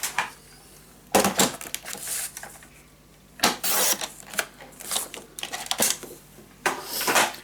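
Paper being cut for a scrapbook mini album, with a series of crisp snipping and rustling bursts at irregular intervals, close and fairly loud.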